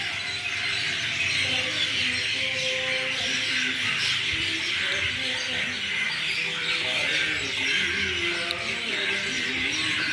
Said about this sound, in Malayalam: നിറച്ച് കടവാവലാണ്